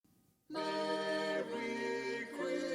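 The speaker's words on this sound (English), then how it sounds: "I did a choir ambience, and that sounds like this" Choir ambience captured from studio speakers by a rear microphone swells in suddenly after a moment of near silence, a sustained, rich chord of blended voices that shifts pitch twice, soft and spacious.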